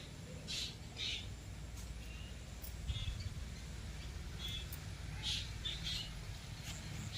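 Scattered high bird chirps and short tweets ring out in a home garden over a steady low outdoor rumble, fairly faint and irregular.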